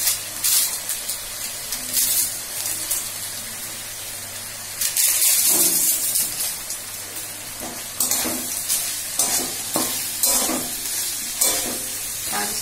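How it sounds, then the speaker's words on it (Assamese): Fried potatoes and broken papad pieces frying in a pan, a bright sizzling hiss with bursts of scraping and stirring clatter, close and fairly loud. "তাৰপিছতে এইখিনি মই ভালকে এবাৰ ভাজি লওঁ।"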